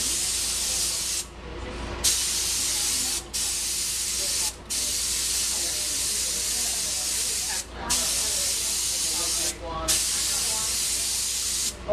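Spray gun blasting black slip onto a ceramic pot in bursts of loud, steady hiss, cut by short pauses roughly every one to two seconds, with faint talk beneath.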